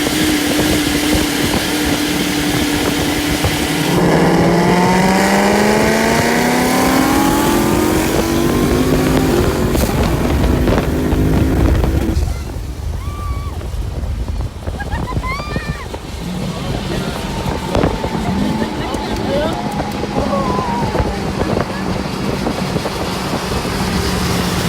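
A race car accelerates hard in a street race against a 950 WHP C7 Z06, its loud engine climbing steadily in pitch through several gears before easing off into a quieter, rougher drone.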